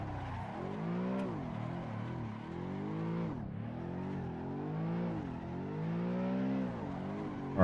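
A car engine in Assetto Corsa revs and accelerates through a long drift, its pitch rising and falling in repeated sweeps over a steady loud drone, with a brief dip midway and a sharp burst at the end.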